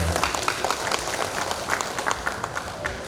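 Audience applause at a Pelalawan regency government farewell-and-welcome event for the police chief, a steady wash of many hands clapping throughout, fairly close and continuous with scattered louder claps.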